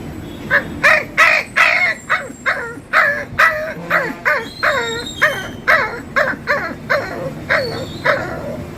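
A man mimics a small puppy whimpering and crying, with a rapid series of short, sharp yelps and whines repeating steadily, close and fairly loud, no other speech.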